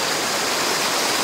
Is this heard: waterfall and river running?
yes